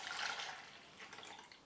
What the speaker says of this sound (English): So I'll pour the milk in a saucepan.